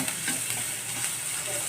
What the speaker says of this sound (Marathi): आता तो असं बारीक चिरून घेतला आणि गुलाबी रंग होईपर्यंत फ्राय करून घेऊया।